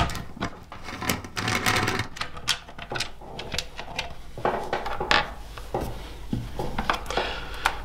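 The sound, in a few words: 8mm socket removing bolts on Yamaha Tenere 700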